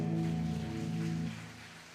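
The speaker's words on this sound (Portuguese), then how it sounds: "E esse aplauso pode ser mais alegre." A church congregation applauds through the whole stretch, a dense patter of clapping over sustained keyboard-like tones, fading toward the end.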